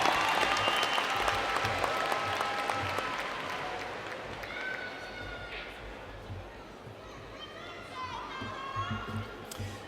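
A spring commencement crowd applauds undergraduate graduates, sustained, dense clapping across a large hall that slowly thins and softens, with scattered voices and cheers mixed in.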